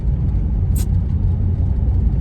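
Steady engine hum and road rumble inside a moving car, low and constant, with a brief high-pitched squeak near the start.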